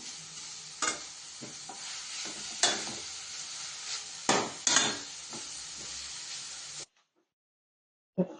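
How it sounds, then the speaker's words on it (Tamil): Grated carrot is sautéed in ghee with a steady sizzle, broken by repeated sharp scrapes of a spoon stirring against the pan, before falling silent near the end. "நெய் ஊற்றிருக்கேன் அதில் துருவி வச்ச கேரட்டை போட்டு நல்லா வதக்கிக்கலாம்"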